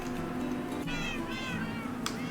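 Several Minecraft cats meowing, two or three clear overlapping meows rising over a busy hum of game sounds, close and fairly loud.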